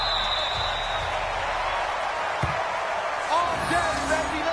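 A packed stadium crowd in an NFL video game, Minnesota Vikings against Pittsburgh Steelers, roars as a continuous broad wash of cheering, with a few thumps and a rising whoop near the end.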